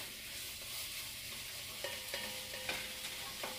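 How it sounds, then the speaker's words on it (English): Herb leaves sizzle gently in butter and olive oil in a pan for a fish and shrimp broth, a soft, quiet frying hiss. Light stirring taps and scrapes break in now and then, with no talking. "I'll put the leaves down there at the bottom like that, so that they can sizzle in the butter and in the olive oil."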